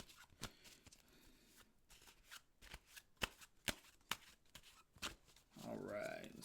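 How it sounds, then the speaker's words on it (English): A deck of tarot cards is shuffled by hand nearby, giving sharp, irregular riffling snaps and slaps with quiet pauses between them, followed by a brief burst of rustling at the end. "Give this another good shuffle."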